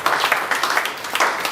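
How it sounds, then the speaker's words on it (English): An audience at the hosting of the 34th President of the NSE breaks into a round of applause, close, lively clapping that swells and dips in uneven waves. "Please, another big round of applause for yourselves"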